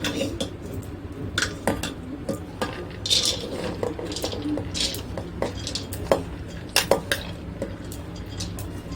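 Washed chana dal goes into a pressure cooker with close, clattering clinks of metal pots and utensils, scattered knocks and scrapes over several seconds, no voice.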